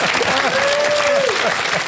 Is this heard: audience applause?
yes